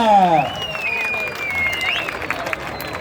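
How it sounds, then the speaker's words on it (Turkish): Audience applause and crowd noise at a Turkish competition event for the Tadımet Şarküteri Cup, a steady clapping wash with a loud announcer's voice speaking over it at the start. "Nerede alkışlar sizde?"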